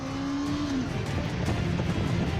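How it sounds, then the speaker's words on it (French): A car speeding past gendarmes on a road in Normandy, a loud, steady engine roar with a falling pitch as it passes, close and alone. "Une voiture vient de se faire flasher à 50 km/h au-dessus de la vitesse autorisée."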